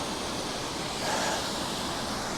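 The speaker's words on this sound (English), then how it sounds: "That's a particularly cool waterfall." A waterfall along the South Jura Trail gives a steady, broad rushing roar that fills the whole clip evenly, with no voices over it.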